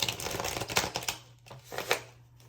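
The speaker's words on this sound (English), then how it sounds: "Let's shuffle some cards." A deck of tarot cards being shuffled by hand: a string of quick papery riffles and flutters, close and moderately loud, with short pauses between bursts and no voices.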